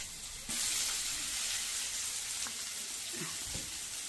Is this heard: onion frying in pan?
yes